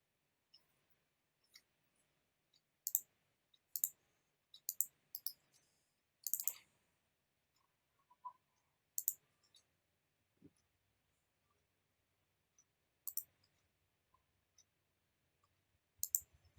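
A computer mouse gives scattered, faint, sharp clicks, some single and some in quick doubles, spread across a quiet stretch with no talking.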